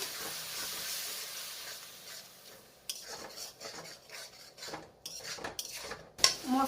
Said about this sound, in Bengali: অল্প করে জল দিয়ে মশলাগুলোকে কষে নেব